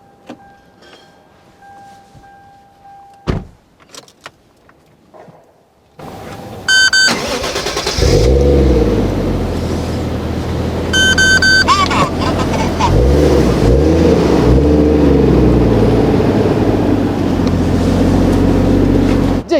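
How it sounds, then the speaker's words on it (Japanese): Toyota Chaser JZX100 Tourer V with a 1JZ-GTE turbo engine, stock turbo and catalyst, and a GP Sports rear muffler, starting up and revving loudly with deep, rising exhaust pulls after a few seconds of quiet handling noises and brief talk. "まずは恒例のマフラーサウンドチェックからいきますかね"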